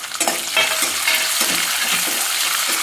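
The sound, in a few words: adding green peas to sizzling tempering oil and stirring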